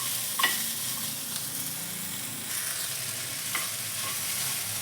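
Cashews, garlic and a tomato fry in a pan with a steady close sizzle, a few faint utensil scrapes of stirring breaking through now and then.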